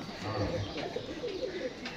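Pigeons coo in a low, soft, repeated murmur, fairly close, with a voice talking over them throughout.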